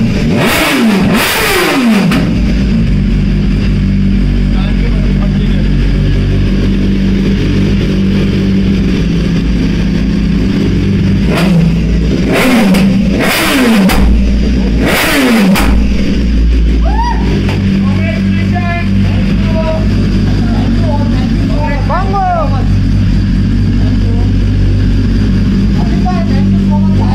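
Loud BMW S1000 RR Pro motorcycle engine revs burst out at the start and again midway over a steady idle, with people talking and shouting over the noise.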